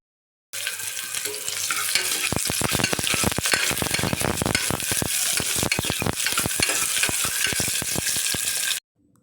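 Onion sizzling in hot oil in a cooker for a Kannada-style mutton boti gojju tempering: a loud, dense frying hiss runs throughout, broken by rapid clattering strokes of a spoon stirring against the pot, then cuts off abruptly.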